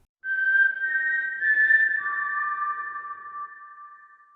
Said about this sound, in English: we should blow the Hunger Games whistle for the Cardinals